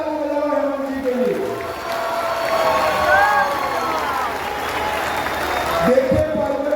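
Large crowd clapping at a political rally in Vasai-Virar with a politician, broad sustained applause filling the clip, with a voice over a loudspeaker before and after.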